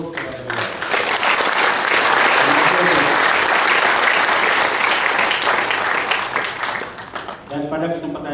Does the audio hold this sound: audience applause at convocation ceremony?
yes